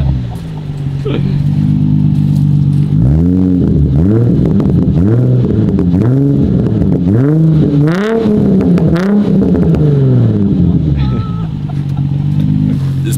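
A naturally aspirated car fitted with a 90mm sport exhaust revs on a dyno. It is loud and close, with a series of about seven rising and falling throttle blips over a constant engine drone.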